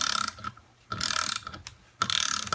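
A hand ratchet turning a bolt clicks in three quick bursts of sharp metallic pawl ticks, close and fairly quiet, with short pauses between strokes.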